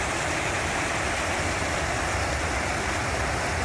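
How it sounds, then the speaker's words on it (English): A small waterfall in NTR Gardens, Hyderabad, pours continuously, a dense, even rush of falling water close by with no other sounds. "Small waterfall."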